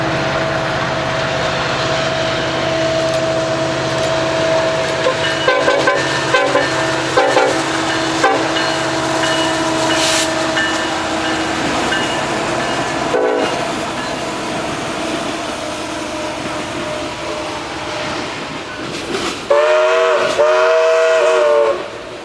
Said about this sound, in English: The engineer of this eastbound freight was kind enough to give a horn show